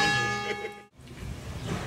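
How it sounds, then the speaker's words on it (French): Church bells of the Saint-Fulgent cathedral ringing, a brief resonant bell tone with ringing overtones that cuts off, followed by a fainter, diffuse continuation, with no speech. "qui est salué par les cloches de la cathédrale Saint-Fulgent"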